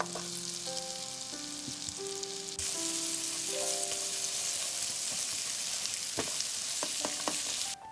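Onion frying over high heat in a pan with melted butter and neutral oil, a steady loud sizzle with occasional stirring scrapes and clinks, no voices.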